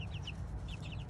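Chickens clucking at a morning seed feeding, several short chirpy clucks close by over a busy, rumbling farmyard background.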